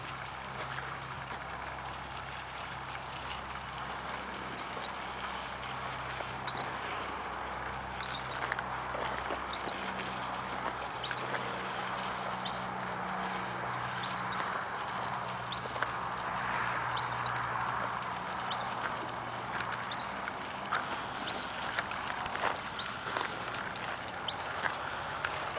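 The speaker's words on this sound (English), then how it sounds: "There goes Poncho pulling the cart." A pony's hooves clop steadily on the ground while it pulls a pony cart, a faint, continuous patter heard over outdoor background noise, with a low hum running through much of the scene.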